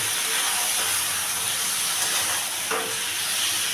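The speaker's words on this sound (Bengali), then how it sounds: "তো এটা আমি এখন হাই ফ্লেমে রেখেই কিছুক্ষণ ভেজে নেব মাংসটাকে।" Marinated chicken fries on a high flame with a constant loud sizzle and hiss from the pan. A brief stirring knock comes near the end, and no one speaks.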